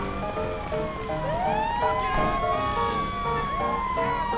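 A fire truck siren in the video game GTA5, its wailing tone rising and falling steadily over engine noise, with other overlapping siren wails sweeping in and out.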